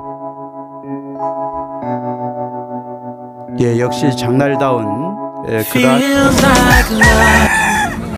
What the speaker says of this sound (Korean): 여기 그 닭장에 닭도 있고